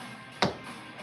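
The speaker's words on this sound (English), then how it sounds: "you're going to hear the sound of a gavel" A single sharp knock of a gavel lands once, close and fairly loud, then rings off briefly against a quiet room with no talking.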